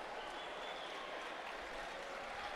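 A crowd at a basketball game in the Domo Bolivariano arena in Barquisimeto applauds with steady, broad clapping that holds at an even level throughout, heard faintly from a distance with no voice on top.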